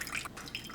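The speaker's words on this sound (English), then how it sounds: "So I'm just going to drain that extra water out." Excess water drains off soaked dates in a soft, close, continuous trickle and splash, with no talking.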